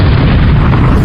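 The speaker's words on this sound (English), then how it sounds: "there was a loud explosion in the house" Loud explosion inside a house used as an audiobook sound effect, a massive, booming blast filling the whole second with dense, sustained rumble.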